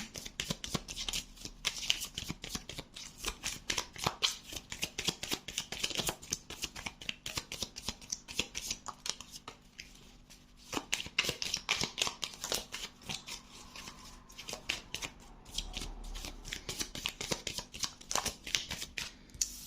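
Message cards are shuffled by hand in a steady flurry of crisp riffling clicks, close and fairly quiet, continuing without a pause and with no talking.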